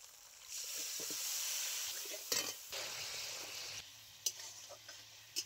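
A cooked spice masala with soaked amchur sizzling in a pan while it is stirred, a soft hiss broken by spoon clinks and scrapes, fairly quiet and close.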